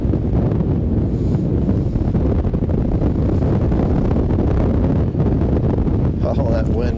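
Strong outdoor wind buffets the microphone continuously during a fishing trip near a gravel bar, a loud, steady rumbling roar with no breaks.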